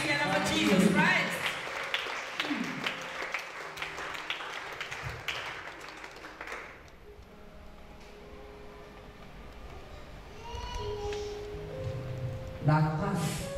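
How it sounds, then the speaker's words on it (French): A church congregation applauds during a Sunday sermon, a burst of clapping at the start that fades into a quieter spell, with a preacher's voice speaking over and after it. "put your hands together for Jesus Christ"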